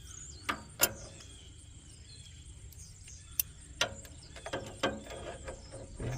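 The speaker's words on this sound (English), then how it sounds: "Take a little pry bar, hopefully get behind something here." A small pry bar works at a stuck part, giving scattered sharp metallic clicks and creaks with quiet pauses between them, close and fairly faint.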